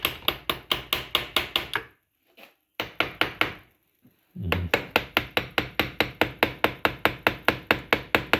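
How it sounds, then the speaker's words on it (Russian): An iron hammer strikes a LuAZ transfer case in a rapid, steady run of loud metallic knocks, broken by two short pauses before the blows resume. "Так, молоток у нас, правда, железный, не медный, не латуновый"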